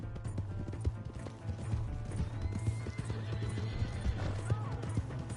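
A horse in the video game Red Dead Redemption 2 clip-clops steadily at close range and neighs over a continuous low background tone, with a voice briefly audible.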